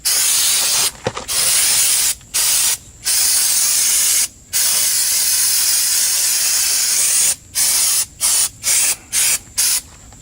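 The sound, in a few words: aerosol brake cleaner spraying on a car's rear brakes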